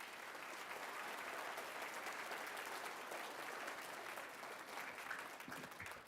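Audience applause at a middle school Christmas concert in a full hall: a dense, steady wash of many hands clapping together, heard faint and somewhat distant for the whole stretch with no talking over it.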